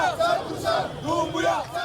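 A jubilant crowd in Touba, Guinea, welcomes a delegation at the town's main entrance during a peace march, with loud, dense ululating cries and cheering that rise and fall continuously at close range.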